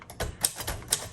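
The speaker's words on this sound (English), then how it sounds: "let's do some typing" A 1935 Royal Model O typewriter being typed on: four crisp keystrokes land close and fairly loud at an uneven, quick rhythm, with no voices.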